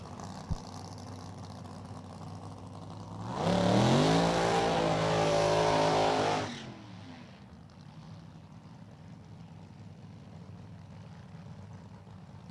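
A top alcohol funny car roars down the drag strip at Virginia Motorsports Park in a final round, a loud, rising engine blast lasting about three seconds that then fades into distant background rumble.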